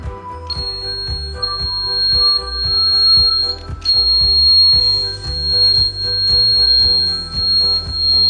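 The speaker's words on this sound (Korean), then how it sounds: "경보기를 설치하겠습니다" A window alarm installed on a sliding window sounds a steady, piercing high-pitched electronic tone that holds continuously, briefly cutting out once, over a background of rhythmic low clatter.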